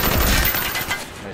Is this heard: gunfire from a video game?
yes